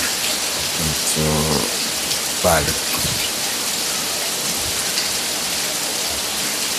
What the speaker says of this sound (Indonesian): Ini lumayan deras dan hujan kali ini sudah hampir sekitar setengah jam.